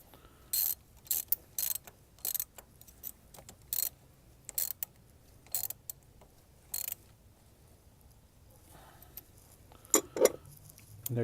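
A ratchet tightens the nut on a car battery cable terminal, giving repeated short bursts of close, crisp clicking separated by brief pauses, with no talking.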